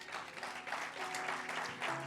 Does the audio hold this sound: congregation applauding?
yes